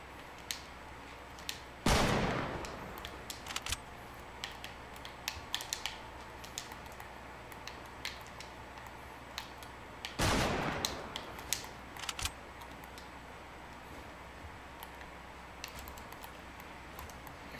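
Heavy sniper fire in the Fortnite video game: two loud, sharp shots about eight seconds apart, each with a brief decay, over a quiet bed of scattered keyboard and mouse clicks.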